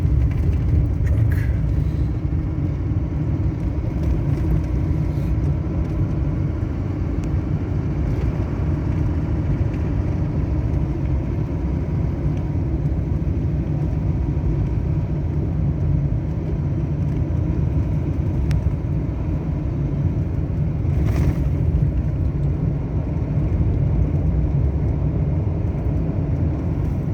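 Steady low engine and road rumble from a 3/4 ton pickup truck towing a heavy trailer on a highway near Radium in the BC Rockies, continuous and loud throughout with no talking.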